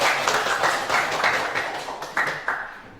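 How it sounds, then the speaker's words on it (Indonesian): A classroom of students claps briefly for a classmate named Wendy, producing a few uneven bursts of hand claps that rise and fade in quick waves over three seconds, fairly close. "tepuk tangan buat Wendy"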